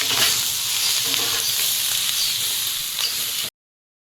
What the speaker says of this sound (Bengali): এর সঙ্গে একটু নেড়ে চেড়ে ভেজে নেব